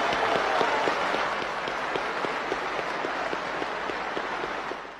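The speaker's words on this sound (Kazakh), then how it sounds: "Шұғылаға бір қаттырақ ду қол шапалақтаңыздар." Audience at a celebration clapping for a dancer, dense sustained applause with a few sharper claps, moderately loud and continuous, fading slightly at the end.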